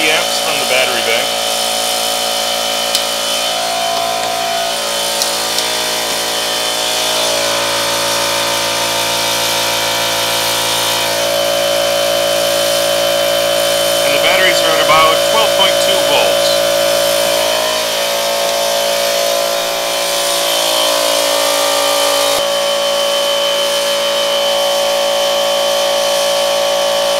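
An air compressor runs steadily off a battery-bank inverter, a constant droning motor hum with tonal whine, near and loud for the whole stretch, while a person talks over it.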